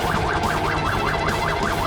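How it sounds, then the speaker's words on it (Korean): Cartoon fire truck and ambulance sirens wail in a loud, steady, regular rising-and-falling cycle that repeats about every quarter second and continues without a break. "소방차와 구급차는 준비 완료!"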